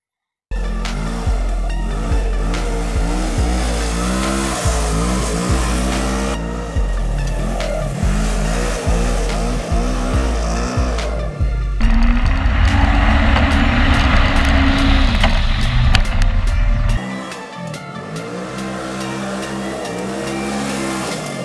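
A RZR side-by-side tipped up onto two wheels in a parking lot, its engine roaring loud and close with sustained revving, surging higher around the middle before dropping off sharply near the end.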